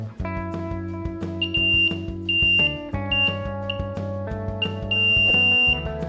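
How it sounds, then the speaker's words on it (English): Homemade BC547 all-component tester testing a variable resistor gives steady electronic tones that change pitch in steps, with brief high beeps repeating over a held lower tone, loud and close, with no talking. "Now test variable resistor with all components tester like this."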